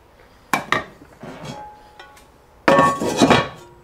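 A heavy cast-iron lid set onto a Dutch oven holding a pork roast, two sharp metallic clanks close up followed by a louder clattering scrape and ringing as the lid settles into place.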